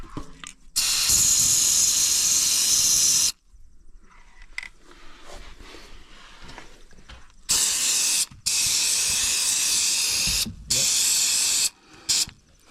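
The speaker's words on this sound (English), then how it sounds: "Spray those 2 bolts that we're gonna, well, and the castle nut too." Penetrating spray hisses onto a farm truck's bolts and castle nut in several bursts: a long spray, then shorter ones, with quieter shop clatter and voices between them.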